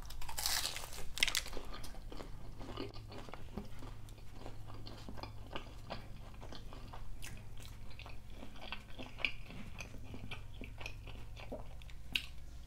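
Close, crisp crunching as Taco Bell Big Cheez-It items are bitten and chewed, with repeated crackling bites and some wrapper crinkling, no speech.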